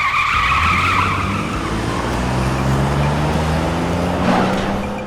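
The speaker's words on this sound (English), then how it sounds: "that peeling out never gets old, and hearing the bottom of that car just scrape along the concrete" A car peels out with skidding tires, its underside scraping along concrete in the RoboCop: Rogue City video game, engine revving loud and steady throughout with the tire and scrape noise most prominent early on.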